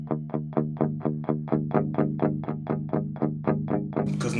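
Electric guitar through an Airis Effects Nebula Advanced Overdrive (NAO) pedal, direct into a cab sim, plays a steady run of evenly spaced plucked notes with a crunchy, overdriven tone, ending in a brief noisy burst.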